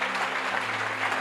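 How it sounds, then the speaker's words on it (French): A church congregation claps during an evangelical teaching, a short burst of dense, steady applause at moderate distance that fills the whole moment. "Ballon applaudissement, non?"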